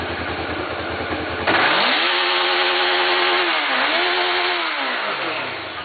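A motorcycle engine idles roughly, then abruptly revs up and holds a loud, wavering high-pitched whine with one brief dip and recovery, close by and alone.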